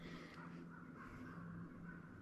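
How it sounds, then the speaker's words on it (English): A bird calls repeatedly in the distance, harsh caw-like notes over steady outdoor background noise, fairly faint and with no voices. "The bird's laughing at me. Can you hear it?"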